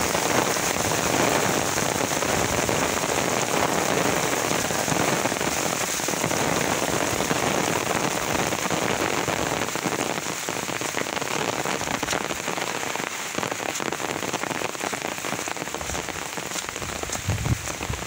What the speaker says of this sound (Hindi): केते जोर वर्षाटा हो